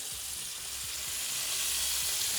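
Shrimp sautéing in a lightly oiled pan for shrimp scampi, giving a steady, close, broadband sizzle that holds evenly throughout without any talking.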